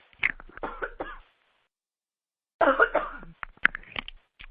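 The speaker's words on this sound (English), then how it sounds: "I'm just going to cough." Someone coughs up close in two separate bursts, with a short silent pause between them.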